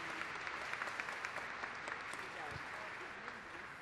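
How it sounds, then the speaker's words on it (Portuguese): Audience applause fills a formal commemorative session for the Day of the Black Latin American and Caribbean Woman, steady and dense throughout, a broad wash of many hands clapping at a moderate level. "uma salva de palmas para a Sueli"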